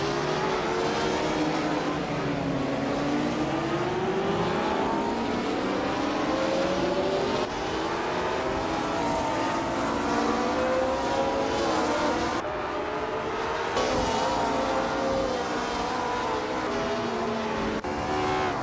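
A 1962 Porsche 804 race car engine in a racing video game drones steadily and loudly throughout, with shifting revs, gear-change dips and a dense layer of competing engines around it.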